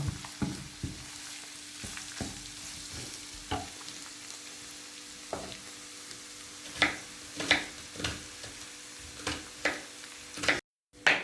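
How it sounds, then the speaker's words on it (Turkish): Half a kilo of minced meat and half a kilo of onions sizzle and fry in a pan, with repeated sharp scraping clicks from stirring throughout and a brief dropout near the end. "Soğanlarımız da kavrulana kadar karıştırmaya devam."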